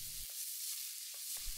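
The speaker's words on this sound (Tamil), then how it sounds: "வெங்காயத்தையும் நல்லா 1-2 நிமிஷம் வணக்கிக்கோங்க" Chopped onion sautés in a pan for a moong dal khichdi with vegetables, giving a steady sizzling hiss broken by short stirring pauses, close and alone.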